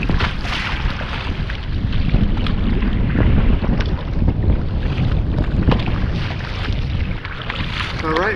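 Strong wind buffets the microphone while waves slap the hull of a small boat on the Ohio River, a loud, continuous roar with choppy water splashing throughout and no talking.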